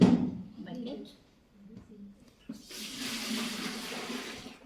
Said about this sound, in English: You have to discard the water in the bucket.